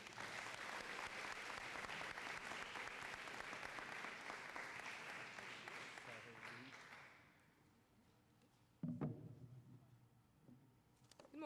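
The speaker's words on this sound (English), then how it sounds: "Let's give her a round of applause." Loud, sustained crowd applause for a speaker at the Port Huron High Fine Arts Festival in 2003, filling a hall for several seconds, then fading into a quieter room with a brief thump and faint murmuring.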